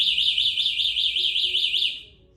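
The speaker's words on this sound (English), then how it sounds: "When you first tamper with the scooter, it will give you a slight warning" Roadrunner E3/E4 electric scooter's tamper warning alarm: a loud, shrill, warbling electronic tone that pulses rapidly and evenly for about two seconds, then cuts off, leaving faint background hum.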